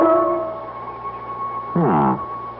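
A dog howls in a radio drama scene, a short rising and falling wail over a sustained tonal background hum, fairly close and loud, with no speech over it.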